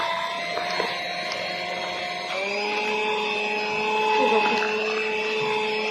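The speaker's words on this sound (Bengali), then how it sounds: "এবার আমি ব্লেন্ডটা একটু বাড়াবো, কত সুন্দর ফ্লফি খেতে হবে।" A kitchen blender whirs steadily while mixing ice cream, its motor pitch shifting upward partway through as the speed is raised, loud and near.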